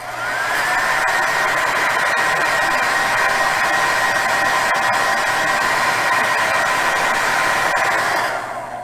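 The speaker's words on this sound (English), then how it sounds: "So I can use the hair dryer that's actually older than I am, probably. It's a Clairol 1500." A Clairol 1500 hair dryer blows over matte varnish on acrylic paint, a loud, steady whirring drone that starts, holds continuously, then cuts off at the end.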